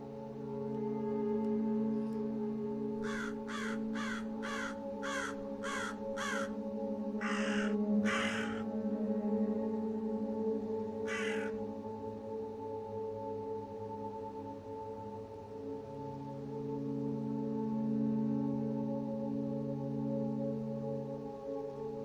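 A crow caws in the video game The Silent Swan near a military tent: a quick run of about six harsh caws, then two longer ones and a final lone caw, over a constant low droning hum.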